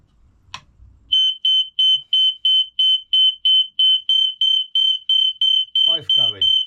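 Loud, steady series of high electronic beeps from two interconnected mains-powered smoke alarms during a test, repeating rapidly in a regular rhythm, with a brief voice at the end.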